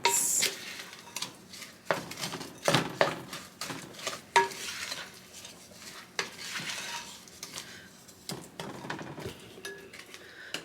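A spoon stirs brown sugar and salt into banana bread batter in a bowl by hand, with steady scraping strokes and occasional clinks of metal against the bowl, close and alone.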